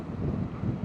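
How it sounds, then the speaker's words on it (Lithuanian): Strong wind roars and buffets the microphone of a motorcyclist riding through an April snowstorm, a dense, continuous low rumble that fills the whole moment with no pauses. "Ui, koks vėjas didelis."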